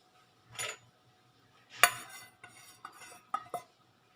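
Spoon stirring and clinking in a bowl as chicken is mixed with spices for a zinger shawarma marinade: several scraping, clattering strokes, close and fairly clear, with no talking.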